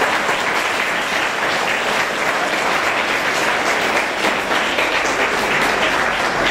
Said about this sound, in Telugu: మీ ఎఫర్ట్స్ కోసం ఒకసారి అందరూ క్లాప్స్ కొట్టండి.